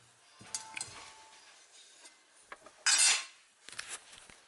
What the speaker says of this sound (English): I'm just mixing that all up